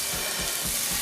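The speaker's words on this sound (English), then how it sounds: "Listen to that sizzle." Ground turkey sizzles loudly in a hot pan, a steady, dense hiss of frying that fills the moment up close with no voices over it.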